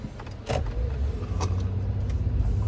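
Road traffic heard from inside a moving car: a continuous low road-and-engine rumble, with a couple of brief clicks or rustles over it.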